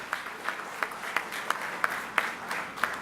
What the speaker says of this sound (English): So give him a round of applause for his tireless work.